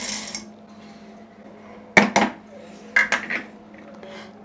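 Roasted peanuts being crushed for soft mawa tilgul ladoos: after a quiet stretch of low hum, a few sharp close knocks and crunches land in two short clusters.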